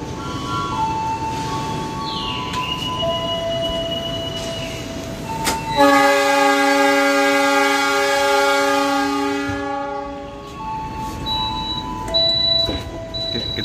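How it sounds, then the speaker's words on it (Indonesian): LS Purwokerto train passing at high speed, heard from aboard a Mataram economy-class train: a loud rushing roar with a sustained multi-tone horn blast in the middle, fading away, with other tonal horn calls and whines before and after. "kapan lagi lihat kereta LS Purwokerto dengan kecepatan segitu ya"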